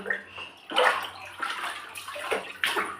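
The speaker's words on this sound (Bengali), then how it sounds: "এখানে সোনা স্নান করছে নিজে নিজে। দেখো দেখো, জল পেয়ে গেছে একবার" Water sloshing and splashing in a bath as a child bathes alone, in irregular close bursts of splashes and gurgles with brief pauses, no talk.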